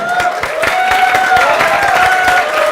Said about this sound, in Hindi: अरे वाह, एक बार ताली बजा दो।